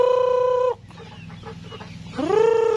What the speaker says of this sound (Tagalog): Tatagin din na natin yung mga manok natin.